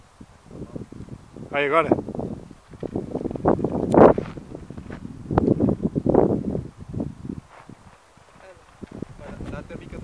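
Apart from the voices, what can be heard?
strong wind blowing outdoors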